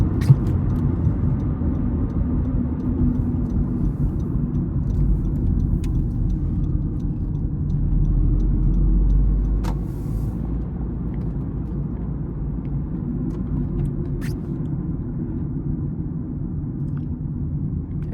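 Steady low road rumble and tire drone fill the cabin of a 2019 Honda Civic LX with a six-speed manual while driving, a constant wash of noise with a brief swell in the middle and faint occasional clicks.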